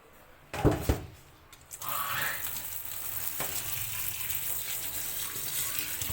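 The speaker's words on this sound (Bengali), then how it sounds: "এখানে একটু করে ধুয়ে নেব" Tap water runs steadily over cucumber and bottle gourd being rinsed, a continuous hissing splash that starts after a few brief clatters and knocks, then keeps on at moderate level close by.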